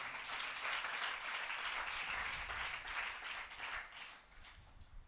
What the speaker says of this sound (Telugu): చప్పట్లు కొట్టచ్చుగా